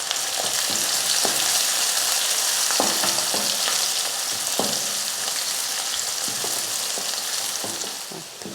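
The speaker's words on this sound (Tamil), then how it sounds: "வெங்காயம் பாருங்கள் நல்லா கலர் மாதிரி வதங்கிட்டுருக்கு" Small shallots and garlic sautéing in hot oil for a fish curry, a loud dense continuous sizzle up close, with repeated spoon knocks and scrapes as they are stirred.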